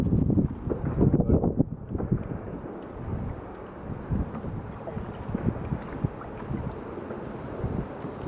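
Strong wind buffets the microphone on a lake during bass fishing from a boat, a steady rumbling roar with gusts that swell and ease, alongside faint water movement.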